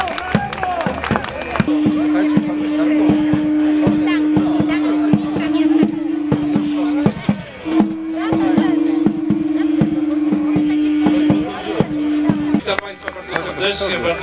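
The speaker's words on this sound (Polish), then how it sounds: "Wielkie brawa!" Crowd clapping in a castle courtyard at a knights' tournament, a steady patter of many hands mixed with crowd murmur, with a sustained tone running beneath it.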